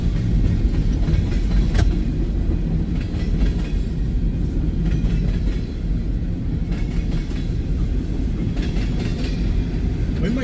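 A CSX freight train with three engines passing at Resaca, Georgia, a loud continuous rumble with clickety-clack wheel noise close by, the roar steady throughout.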